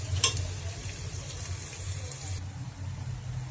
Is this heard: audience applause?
no